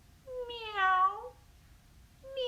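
A single clear, drawn-out cat meow, close and distinct against a quiet background, with the start of another meow at the very end.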